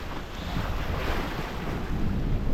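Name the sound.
wind and waves while sailing at sea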